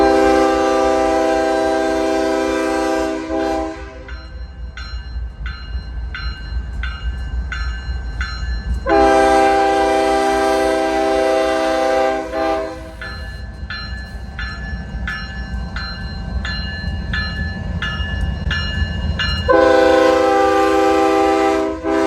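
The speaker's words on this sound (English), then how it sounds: "these enormous grain unit trains crisscross the nation's tracks" A loud grain unit train rumbles steadily past close by, its multi-tone horn blaring in three long blasts separated by stretches of rolling wheel and wagon noise.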